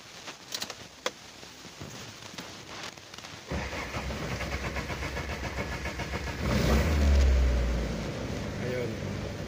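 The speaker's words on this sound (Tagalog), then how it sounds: "Ayun, so mabilis na siya umandar" Toyota Avanza engine with low fuel and a hard-start fault cranks briefly then catches, settling into a steady, close, loud idle that swells as it revs up near the end.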